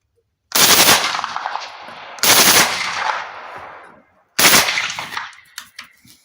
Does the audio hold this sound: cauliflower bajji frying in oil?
no